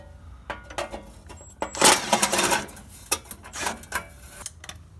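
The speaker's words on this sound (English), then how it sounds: "Now we're gonna get all the heat shield bolts off." Car heat shield bolts removed during an engine mount job, close metallic rattling and a whirring burst from a power tool, followed by scattered clinks and taps.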